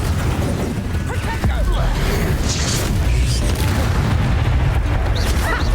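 Confringo blasting-spell explosions in Hogwarts Legacy, booming bursts and crackling impacts layered over a constant low combat rumble, with a voice briefly calling out during the fight.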